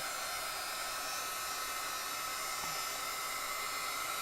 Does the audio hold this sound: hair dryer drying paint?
yes